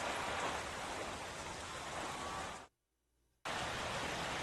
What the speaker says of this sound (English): Looks like the rain's going to stick around for a while, folks.